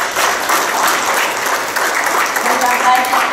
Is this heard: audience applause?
yes